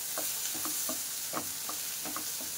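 Tomato and tamarind sautéing in a pan for a mixed-vegetable chutney, giving a soft steady sizzle with intermittent stirring scrapes at a quiet, close level, no voices.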